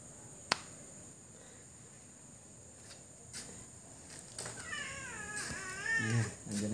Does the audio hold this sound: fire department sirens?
no